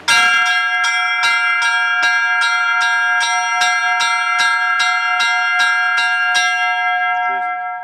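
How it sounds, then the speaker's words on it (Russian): Church bells ring at a festival opening beside a cathedral: bright, resonant strikes repeat in a fast, even rhythm, loud and close, with overlapping ringing tones that decay and fade out at the end; no talking. "фестиваль открылся совместным колокольным звоном у кафедрального собора Прокопия Праведного"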